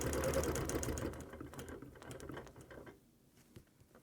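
Rapid, even stitching from a sewing machine quilting a clamshell pattern on a spring wall hanging, close and moderately loud at first, then slowing and fading to quieter, scattered clicks.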